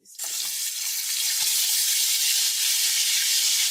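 Ginger garlic paste sizzles in hot oil for green chicken biryani, giving a loud, continuous, close hiss of frying that starts abruptly and holds steady throughout, with no voices.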